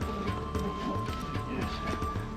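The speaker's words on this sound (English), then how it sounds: "The horses were panicking." Panicking horses on a trek in Mongolia, with rapid, uneven hoof clops and stamping repeating close by over a constant background rush.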